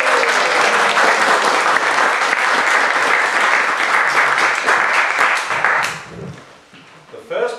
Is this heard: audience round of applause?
yes